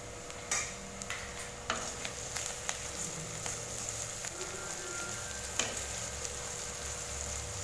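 Garlic and asafoetida sizzle steadily in a hot pan, a continuous close frying hiss broken by occasional clicks and scrapes from stirring, with no voices.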